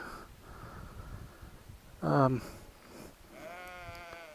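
A single short sheep bleat rings out clearly over a steady outdoor rumble from a motorcycle on a gravel road, followed by a fainter wavering bleat toward the end.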